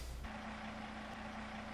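A truck in Farming Simulator 2013 backs up with a steady engine drone and an air-brake hiss at the start, the reversing beeper lost under the continuous motor noise.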